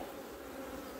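A frame crowded with honeybees during a hive inspection hums with a continuous, close buzzing drone, dense and unbroken across the brief moment, with no talk.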